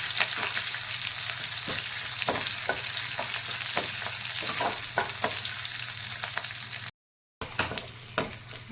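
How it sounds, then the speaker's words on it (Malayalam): Mustard seeds crackle and sizzle continuously in oil with sharp popping bursts, close and steady, broken by one brief gap of silence. "നമ്മുടെ കടുക് വറുത്ത് അത് ബ്രൗൺ കളറായിട്ടുണ്ട്."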